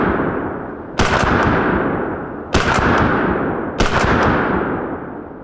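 An AK-74 rifle fires 5.45 ammunition in three loud, close bursts about a second and a half apart, each sharp crack trailing into a long decaying echo, with no voices.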